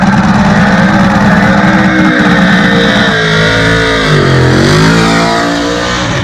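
Race cars scream past at high speed, loud engines revving with a sharp pitch drop as one passes close by, steady roar throughout.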